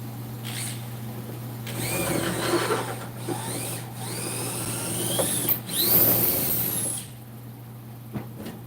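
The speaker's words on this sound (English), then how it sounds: "So I just keep drilling until I find one that fits." A power drill whirs in several bursts, its motor pitch rising and falling, with brief pauses between runs and a steady hum underneath.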